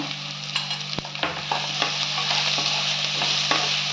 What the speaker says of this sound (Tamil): வெங்காயம் இன்னும் வதங்கணும்.